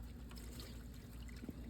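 Grass clipping tea is poured from a container onto melon plants, giving a soft, steady trickle of liquid close by, with no talking.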